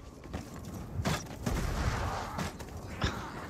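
Scattered gunshots and booms from the video game Warhammer: Vermintide 2, several sharp cracks spread across a dense mix of game effects and background noise, moderately loud.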